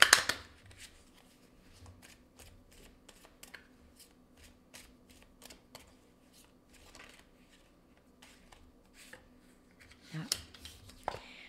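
Tarot cards are shuffled and laid out on a table, with soft rapid riffling and crisp flicks and slaps repeating throughout, close and fairly quiet.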